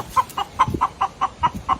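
A frightened chicken sharing space with a monkey clucks in a steady, evenly spaced series of eight or so sharp notes, close and clear.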